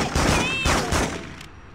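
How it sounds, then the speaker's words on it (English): Several gunshots crack in quick succession during a Spider-Man video game, sharp bursts over about a second with a faint whistling tone among them, then trailing off. "I just heard gunshots!"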